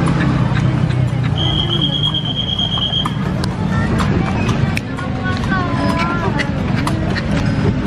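Horse hooves clip-clop steadily through a busy evening street during a horse-drawn carriage ride in Yogyakarta, mixed with crowd chatter, traffic and a brief high squeal, with voices talking throughout.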